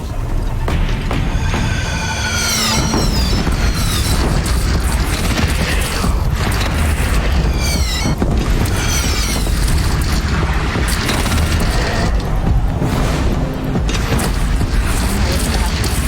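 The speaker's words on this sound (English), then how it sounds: "Take up a cannon! On the platforms!" Cannon fire during a battle in the video game Horizon Zero Dawn, heavy booms and mechanical clanks over a constant din, with shrill whistling sweeps, and shouted voices heard amid the fighting.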